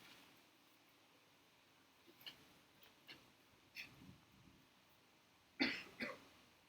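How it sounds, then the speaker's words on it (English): A person coughs indoors during a group storytelling session: a few faint, scattered coughs and throat sounds, ending in two louder, sharper coughs close to the microphone, over quiet room noise with no speech. "Why is he coughing?"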